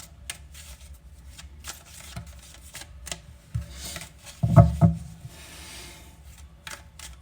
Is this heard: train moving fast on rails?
no